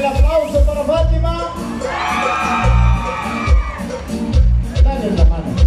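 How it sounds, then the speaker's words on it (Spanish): Spectators at an outdoor variety show in a Oaxaca town cheer, yell and whoop for a contestant over thumping, rhythmic music, the crowd noise swelling in bursts above the beat. "El aplauso para Fátima."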